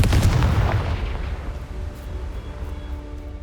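A Confringo blasting curse in Hogwarts Legacy goes off as one heavy booming explosion that hits hard and decays into a long, fading rumble.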